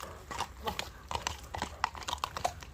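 A horse's hooves clip-clop in a steady, uneven walking rhythm as it is led, close by and fairly loud, with faint background murmur.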